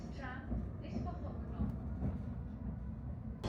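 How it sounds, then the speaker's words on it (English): A Nottingham NET tram gives a steady low rumble of running and motor hum, with a voice briefly heard over it. "I'm pretty much just gonna jump back on that tram"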